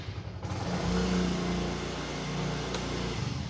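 A freshly refurbished scooter-type motorcycle engine runs with a steady mid-pitched drone, surging slightly before easing down, heard close without talk.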